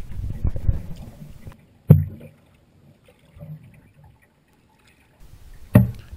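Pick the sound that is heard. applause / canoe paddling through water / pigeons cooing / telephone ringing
canoe paddling through water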